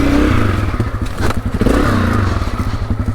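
A 2024 Honda CRF250F trail bike rides off with a loud, close single-cylinder engine, its pulsing exhaust note rising and falling as the throttle opens, with clattering and thumping mixed in.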